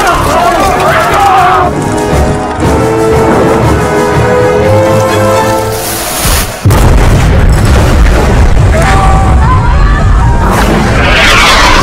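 A cannon fires in a battle scene from a film about the 1453 siege of Constantinople, with one heavy, booming blast partway through over loud battle din, music and voices.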